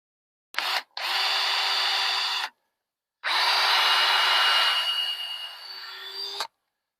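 Power drill boring pilot holes into the edge of a wooden porch beam during a front porch gate install, two sustained whining bursts close up, the second drifting lower as the bit slows, no talk.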